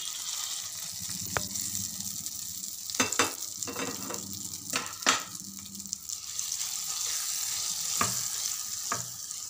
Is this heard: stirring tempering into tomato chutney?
yes